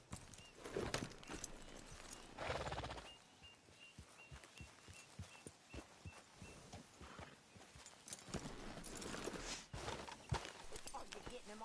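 Horse hooves clip-clop in a steady walking rhythm in the video game Red Dead Redemption 2, close by, with brief voices and other game sounds mixed in.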